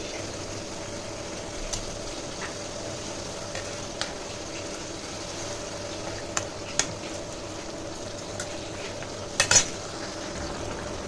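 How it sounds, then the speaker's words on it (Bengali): Fish pieces and a little water go into a pan for a spicy fish curry, giving a low steady simmering sizzle with a few faint utensil clinks scattered throughout and a brief louder scrape near the end. "দিয়ে দিচ্ছি মাছগুলো। অল্প জল দেব।"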